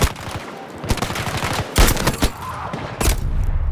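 Gunfire in the Battlefield video game: loud, close bursts of automatic and single shots, clustered in rapid volleys with brief pauses between them.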